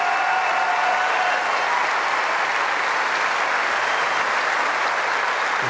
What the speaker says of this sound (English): The crowd responding to Henin-Hardenne, but they're also clapping for Kim Clijsters because she made a real match out of it